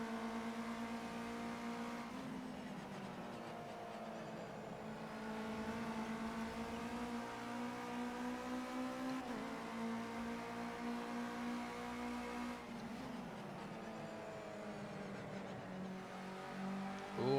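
Ginetta Junior race car in Project Cars 2 racing on a snowy track, its engine droning steadily with rising and falling revs through gear changes and corners, loud and continuous with no talk.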